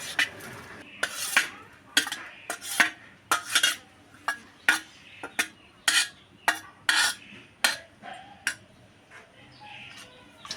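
A metal spoon scrapes and clinks rhythmically against a pan while milk and grated coconut are stirred together, sharp repeated strokes close up, with faint birdsong in the background.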